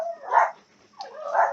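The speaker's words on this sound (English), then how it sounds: "the dogs are barking" Dogs barking nearby, two distinct woofy barks separated by a short pause, fairly loud and alone without talk.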